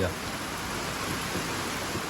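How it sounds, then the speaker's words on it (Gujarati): Steady hiss of rain falling, even and continuous throughout, with no clear voices standing out. "આ બાજુ તો છે ને વરસાદ એટલો પડે"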